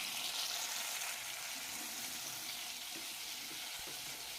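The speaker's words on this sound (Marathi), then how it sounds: "लसूण फ्राय झाला की यामध्ये आपण मशरूम घालूयात।" Garlic and mushrooms fry in butter in a pan with a steady, close crackling sizzle throughout, and a few soft stirring knocks come near the end.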